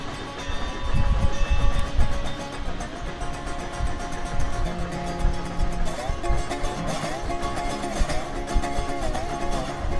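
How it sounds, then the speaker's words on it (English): Video game freight cars roll along with rhythmic rumbling and clacking, a steady mechanical train sound with some tonal squeals, heard without talk. "I do like the freight car sounds, honestly"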